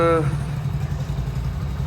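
Several Hero Splendor 100cc motorcycles idle after being started, a steady low engine drone with faint clatter, and a voice is heard briefly at the very start.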